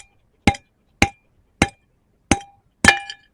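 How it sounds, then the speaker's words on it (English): A heavy hammer strikes a rock specimen five times in a slow, uneven rhythm, each blow a sharp, close crack with a brief ringing tail and silence between. "Got me massive hammer. I'm just going to give him some little crushing blows until he gives in."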